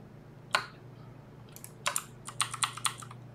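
Computer keyboard typing: a few scattered key clicks, then a quick run of taps, faint and close against a steady low hum.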